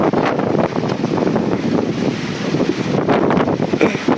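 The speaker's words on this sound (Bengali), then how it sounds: "কি তুফান দিছে দেখো" Storm wind blows hard outdoors, buffeting the microphone in loud, gusting rumbles and rushes that surge and ease, with no speech.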